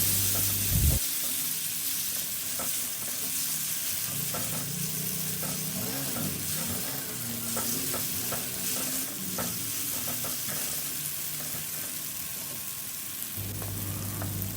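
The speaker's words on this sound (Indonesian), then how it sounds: "Ini aku mau tumis dulu bawang-bawangan yang tadi aku iris sampai dia wangi." Sliced shallots and garlic sauté in oil in a wok, a steady close sizzle and fry running throughout with scraping stir strokes and clinks of a utensil against the pan, no voices.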